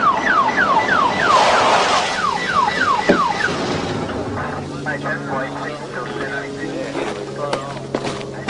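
A siren wails in repeated rising-falling sweeps for a few seconds, then gives way to steady tones and chatter from people talking nearby.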